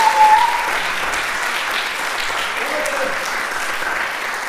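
A crowd applauds at a Bongsan Talchum Korean mask dance performance, a steady, moderately loud wash of clapping that holds evenly throughout, with a brief voice at the start.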